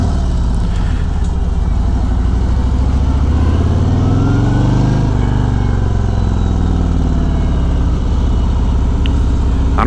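A 2019 Harley-Davidson Road Glide Special fitted with Kraus handlebars rumbles loudly and continuously on a road ride, its engine note rising and falling with throttle, heard up close with wind roar.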